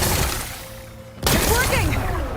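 Rocks blasted apart in Horizon Forbidden West: a sustained rumbling roar gives way to a sudden loud, crackling burst of explosion and debris, with a brief electronic tone underneath beforehand.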